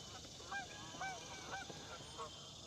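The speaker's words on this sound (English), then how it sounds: "The geese want a cameo, apparently." Distant geese call out near the Tennessee River in about five spaced honks, faint against a constant open-air hiss.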